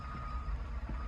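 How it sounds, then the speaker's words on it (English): A bulldozer's back-up beeper sounds over the steady low rumble of the machine's engine, close and loud for a single short stretch. "Back up beeper."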